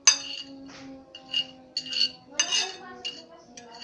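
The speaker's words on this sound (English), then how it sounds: "I'm going to mix it again because we need the taste to be really yummy." Utensil stirring food in a cooking pot at home, with light clinks and scrapes of metal against the pot in short bursts, fairly close and quiet.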